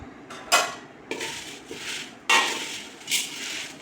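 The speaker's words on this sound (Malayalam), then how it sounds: "ഇത് രണ്ടും കൂടി നന്നായിട്ടൊന്ന് വറുത്തെടുക്കണം കേട്ടോ" Vermicelli and sago are stirred and roasted together in a pan, with a spoon scraping and knocking against the metal in several distinct strokes spaced a second or so apart, close and fairly loud.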